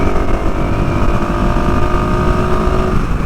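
A KTM 690 Enduro R single-cylinder dual-sport motorcycle held at full throttle in top gear, its engine drone and wind roar steady and loud throughout without a break.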